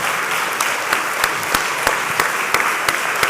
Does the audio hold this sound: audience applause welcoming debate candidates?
yes